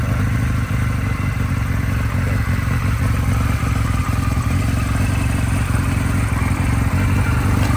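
Kawasaki RS Z motorcycle engine idling slightly high, a steady close rumble with even mechanical clatter running throughout, no talking.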